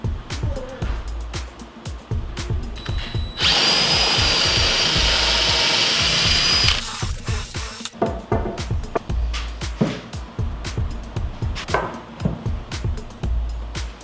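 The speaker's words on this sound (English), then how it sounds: "And now I'm just laying them out to pre-drill a few holes." A drill pre-drilling holes in wood for bunk bed framing in a wood shop, one loud, steady whirring burst of a few seconds amid close knocking and handling noises.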